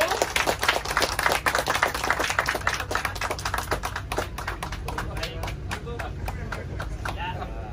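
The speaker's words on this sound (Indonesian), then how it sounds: "Mungkin bisa dibantu tepuk tangannya terlebih dahulu." Audience clapping at a ceremony opening a floating hospital in Labuan Bajo, a scattered patter of individual claps, louder at first and gradually thinning, with faint voices underneath.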